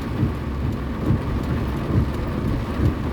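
Heavy rain pours steadily as a dense, continuous roar, with deeper rumbling swells recurring throughout, heard from inside a parked car sheltering under a bridge during a downpour.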